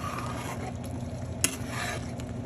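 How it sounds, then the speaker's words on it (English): A spoon stirs spaghetti sauce in a pot over a steady low simmering bubble, with one brief clink of the utensil against the pot midway and no voices. "We're going to stir this up"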